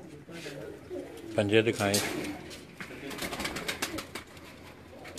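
Pigeons coo in a loft: a short burst of low, throaty coos stands out near the start, while someone talks over soft background chatter and rustling.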